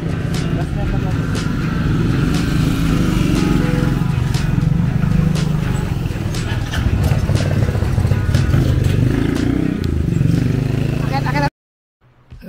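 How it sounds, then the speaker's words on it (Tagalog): A grass cutter runs steadily up close, a loud continuous motor drone with clattering texture for about eleven seconds before cutting off abruptly, with voices speaking over it. "Malilibre ng grass cutter si mother"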